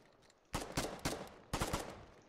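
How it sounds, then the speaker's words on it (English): Gunfire in the Foxhole war game: two short bursts of rapid, punchy automatic shots, each about four rounds, fired fairly close after a quiet moment, with no speech over them. "Taking fire."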